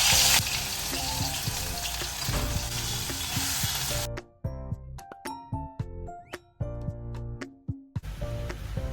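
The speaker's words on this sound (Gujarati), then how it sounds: "હવે બસ ખાલી આને વઘારવાનું જ છે" Loud, steady sizzling of a spice paste hitting hot oil for about four seconds as it is tempered, then it cuts out, leaving clinks and scraping stirs in a metal pan.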